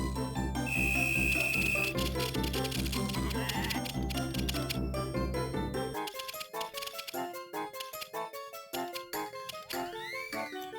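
Video game sheep bleat repeatedly, bright and close, first over a dense musical backing and then against sparser tinkling tones and clicks.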